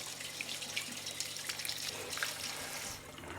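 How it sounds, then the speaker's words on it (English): Cold tap water pours steadily over green beans in a colander at a kitchen sink, a close, continuous splashing rush with faint spattering and no talk. "run some cold water over the green beans to stop the cooking"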